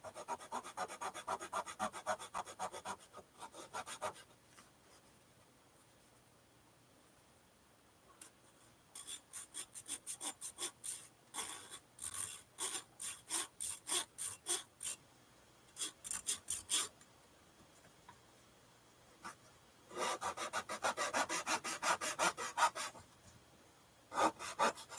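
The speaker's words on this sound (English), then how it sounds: "That's a nice sharp saw, so that cuts through there pretty quick." A sharp hand saw cuts through the wooden back of a violin in quick bursts of rasping back-and-forth strokes, close up, pausing between runs and ending with a fast, dense flurry of strokes.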